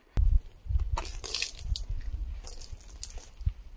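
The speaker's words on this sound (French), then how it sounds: "On attaque la douche." Shower water splashes and rinses over a dog with white patches, a steady wet, squishy spray with irregular drips and splatters close by, with no talking.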